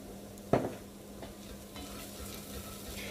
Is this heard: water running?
no